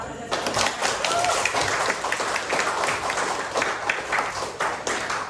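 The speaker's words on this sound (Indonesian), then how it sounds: "Silakan tepuk tangan." A university class at Universitas Mulawarman applauds at the end of a lesson, a steady wash of many hands clapping that holds at an even level throughout.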